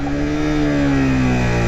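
A 2017 Suzuki GSX-R150 motorcycle engine drones steadily and eases slightly downward in pitch as it revs down under engine braking, loud and close, with no talk.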